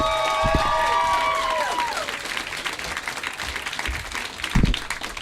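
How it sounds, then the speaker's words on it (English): A comedy club audience applauds and cheers for a stand-up comedian, a dense, steady wash of clapping with a few whoops, tapering slightly toward the end. "Please keep that applause going with the very funny hilarious Devon Alexander."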